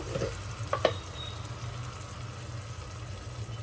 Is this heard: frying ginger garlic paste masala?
yes